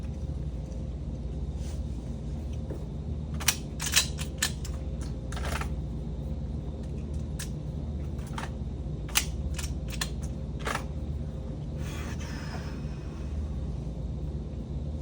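A shooter loading a pistol and making ready at a USPSA match range, with a scattered run of sharp, close mechanical clicks and clacks over a steady low background rumble.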